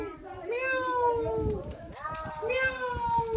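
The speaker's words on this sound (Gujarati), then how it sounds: "જોઈ લે, આ મીંદડું છે, આ બોલે" A cat meows in the street, two drawn-out rising and falling yowls close by. People talk and background chatter continue under and between the calls.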